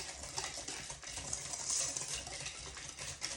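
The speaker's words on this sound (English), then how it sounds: "And we're going to whisk that all together really well." Muffin batter with vanilla whisked in a bowl, a steady, close, busy scraping and swishing that runs continuously with no pauses and no voices.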